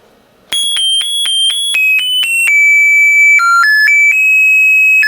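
Electronic doorbell melody from a musical greeting card circuit powered at 6 volts: a loud, pure, beeping single-tone tune of quick stepped notes that starts abruptly and plays on with held pitches.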